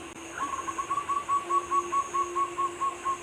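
A zebra dove (perkutut) calls at night, a steady series of soft, rhythmic hooting notes, even in pitch, repeating about every quarter second over a quiet background hum.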